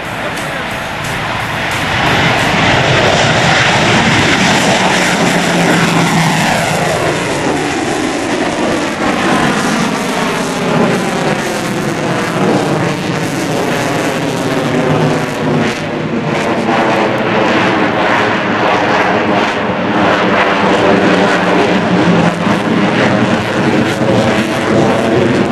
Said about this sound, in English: From Show Center, the Tomcat into the dirty double element.